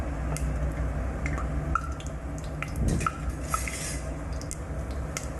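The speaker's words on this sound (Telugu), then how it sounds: "ముందుగా ఆవాలు వేసుకుందాం. ఆవాలు చిట్టుపట్టుకున్న తర్వాత కొంచెం జీలకర్ర కూడా వేసుకుందాం." Mustard seeds sputter and crackle in hot oil in a home kitchen with cumin added, making scattered sharp pops and sizzles over a steady frying hiss while preparing peanut chutney.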